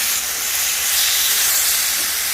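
A whole red pomfret fries on a hot tawa, giving a steady, close, bright sizzling hiss that stays even throughout with no pauses or talking.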